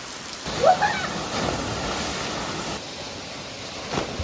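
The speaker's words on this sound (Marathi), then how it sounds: "पावसान जो ब्रेक घेतलेला आठ दिवस तो भरून काढतलो हा कंटिन्यू पडता" Heavy continuous monsoon rain near a waterfall in a rural setting, a dense steady hiss with a brief louder swell near the start, close and without talk.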